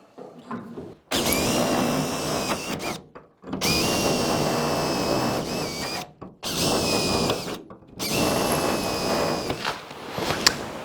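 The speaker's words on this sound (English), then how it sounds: "now I'm going to drill it so that I can bolt this to the cab" A power drill bores through a steel door hinge on a 1951 Chevy rat truck, running in four loud, steady bursts of whining motor noise separated by brief pauses.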